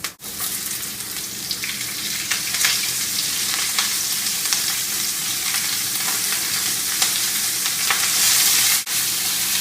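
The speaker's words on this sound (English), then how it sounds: "And you're going to throw in 3 halved and sliced onions." Three halved and sliced onions fry in oil in a pot, a steady, loud, close sizzle with faint stirring that runs nearly unbroken and dips briefly near the end.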